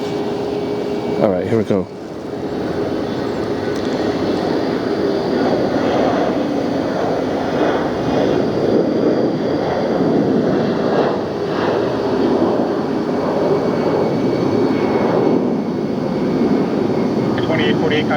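An Airbus A319 jet taking off, its engine roar a steady, broad rumble heard from a distance at an airport, with a person briefly talking near the start.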